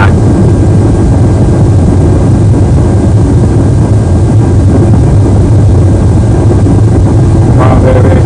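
An American Airlines airliner's jet engines at takeoff power on the runway, with a failure on one engine, produce a loud, unbroken roar with a deep low rumble that holds steady throughout.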